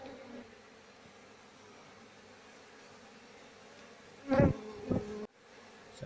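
Asian honey bees (Apis cerana) buzz steadily around an opened hive in a low, faint drone. Near the end a few louder close buzzes pass by.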